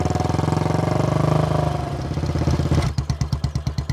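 Motorcycle engine close by, chugging steadily as the bike pulls up to park, then slowing to a rough, uneven idle with distinct pulsing beats.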